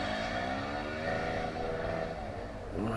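A dirt bike engine revs as the bike sinks underwater in deep water, a steady loud motor drone with rising and falling pitch that fills the whole stretch.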